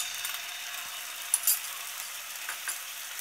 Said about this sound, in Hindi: अब अदरक लहसुन का पेस्ट डालेंगे